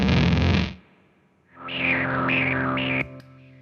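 A Beetronics Zzombee Filtremulator in step filter mode chops a distorted tone, first a dense buzzing burst, then a pause, then a sustained note whose filter jumps between stepped positions before cutting off.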